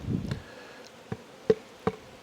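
Honey bees hum in a faint, steady drone around a hive, broken by several sharp clicking taps at irregular intervals.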